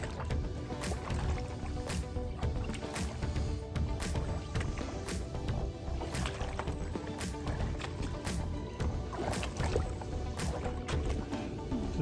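Floodwater runs steadily across a flooded trail in a regional preserve, about half a foot deep, making a continuous close rushing and splashing wash with scattered sharp clatters throughout.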